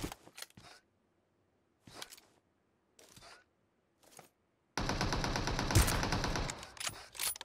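Sustained M249 machine gun fire in PUBG Mobile, a dense continuous burst after several short, separate shots, loud and close with no talking.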